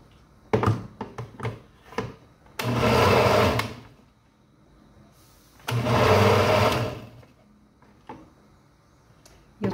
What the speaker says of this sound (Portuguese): Acho melhor vocês fazerem isso aqui no liquidificador.